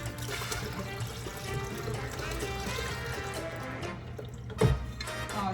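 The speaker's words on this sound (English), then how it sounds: "So I'm going to pour the tea" Tea for a non-alcoholic Puerto Rican coquito is poured into a bucket, making a continuous gurgling, splashing stream with a low hum underneath and one brief louder splash near the end.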